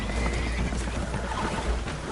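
Horses whinny in alarm aboard a holed, leaking boat in a video game, set against a constant loud roar of rushing water with no pauses.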